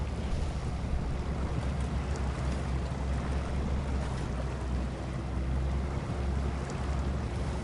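A truck ploughs through deep water in SnowRunner, a steady low engine rumble mixed with continuous sloshing and rushing water, loud and unbroken throughout.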